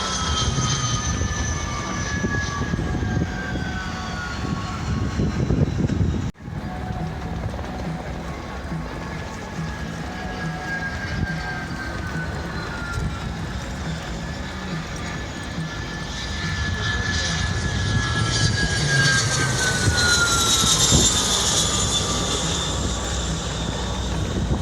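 A Learjet jet aircraft makes a belly-up pass with the gear retracted at an airshow, a loud sustained jet roar sweeping past the crowd with a sharp dropout partway and swelling again near the end.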